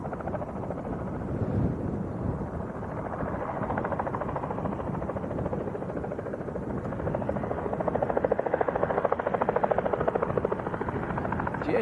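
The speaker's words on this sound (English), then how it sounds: "That's an aircraft that keeps going around training" A training aircraft flying circuits and approaching Leeds East Airport gives a loud, steady engine drone with a buzzing rotor-like whine, swelling slightly toward the end and mixed with wind noise on the microphone, with no speech.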